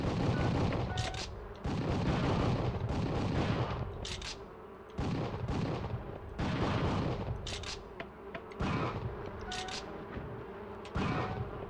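Repeated light gun shots fired in a PlayStation 1 shooting game played through the ePSXe emulator, sharp bursts recurring every second or two over a busy, crackling game soundtrack, with no one talking.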